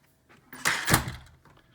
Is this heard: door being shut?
yes